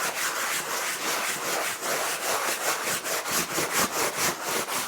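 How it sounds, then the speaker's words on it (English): A cloth is rubbed briskly back and forth over a waxed canvas jacket, making a close, rhythmic series of soft scratchy swishes with no talking. "I just kind of give it a good buff."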